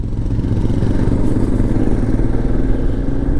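A motorcycle engine hums steadily and loudly close by on a winding mountain road near Shinkula pass, a continuous mid-pitched drone with some rattle, no voices.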